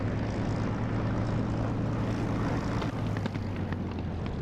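A propeller aircraft engine drones loudly and steadily in the DCS flight simulator game, a constant engine roar with no speech.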